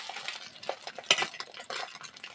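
An egg roll being flipped and fried in a pan, with a cluster of spatula scrapes and a sharp clink of metal near the middle over a light sizzle, close and uneven.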